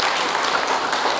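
A brief burst of applause at a Buddhist Sunday dharma service, dense and steady clapping from many hands lasting about a second.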